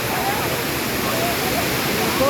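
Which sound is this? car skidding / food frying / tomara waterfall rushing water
tomara waterfall rushing water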